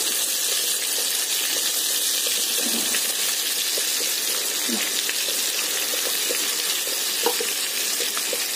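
Brinjal slices fry in hot oil with a loud, continuous sizzle and crackle that never lets up, with occasional small pops and no one speaking.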